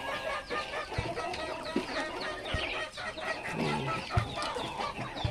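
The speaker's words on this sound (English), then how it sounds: "What a nice duck." Muscovy ducks on a farm give a steady run of clucking, fowl-like calls, close and busy, with occasional sharp low thumps scattered through the flock noise.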